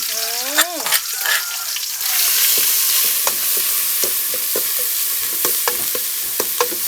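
Chili paste stir-fried in hot oil for a northern Thai curry of winter melon and native chicken, giving a steady close sizzle with repeated scraping and clicking stir strokes; a brief voice sounds at the start.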